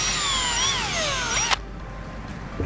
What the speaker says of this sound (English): I'm basically just drilling them in at a 90-degree angle